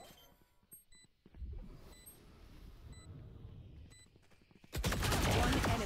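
Countdown beeps from a planted spike in Valorant sound at a steady rate of about one per second. They sit over rumbling game noise and scattered gunfire, and the clip ends in a sudden loud roaring burst.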